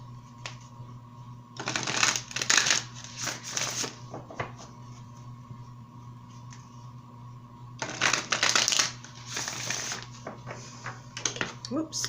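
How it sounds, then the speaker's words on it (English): Tarot cards being shuffled in two bursts of crisp riffling, close and moderately loud, separated by quieter stretches of faint handling with a steady low hum underneath. "So let's go ahead and pull some cards here for your advice"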